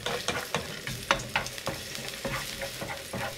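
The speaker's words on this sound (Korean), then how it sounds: "식용유 한 스푼, 편마늘 넣고 기름에 향이 나도록 볶아줍니다." Sliced garlic fries in a spoonful of cooking oil, a close steady sizzle with light stirring clicks and scrapes throughout.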